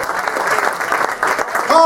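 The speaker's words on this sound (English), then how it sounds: "Give them one more round of applause for those epics" Audience applause for comedians at an adult-only comedy show, a dense steady clatter of clapping that fills the short moment, with a voice speaking over it near the end.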